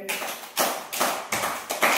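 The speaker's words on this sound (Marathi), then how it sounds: "बघा मयुरीसाठी टाळ्या वाजवा रे" Children in a first-grade village school classroom clap in short, uneven bursts, about five quick rounds of claps close by, with no talking.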